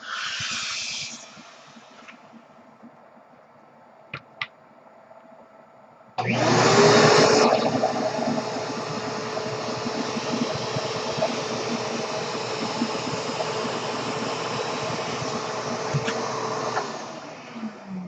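A vacuum motor switches on abruptly and roars steadily for about ten seconds, loud and close, then winds down; a few faint clicks come before it starts.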